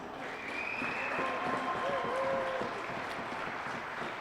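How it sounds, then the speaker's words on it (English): Crowd applause at a high school boys hockey game senior day ceremony, a steady, fairly faint wash of clapping in a large rink, with an announcer's voice over it. "Let's have a round of applause for our seniors."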